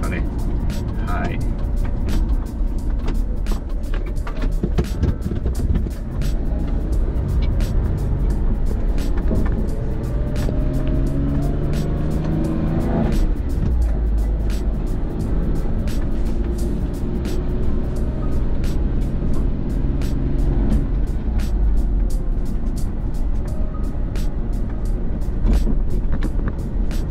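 Car driving along the access road toward a campsite from the roadside station, a steady engine and road rumble running throughout with people talking over it.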